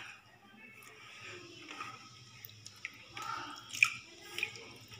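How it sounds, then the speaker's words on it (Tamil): Water is trickled a little at a time over a cockatiel during its bath, giving faint, soft dripping and splashing patters with quiet, scattered rustling and no clear talk. "கொஞ்சம் கொஞ்சம் அப்படியே தண்ணி வந்து மேலே ஊற்றிட்டிங்கன்னா அது அப்படியே நின்றுக்கும்"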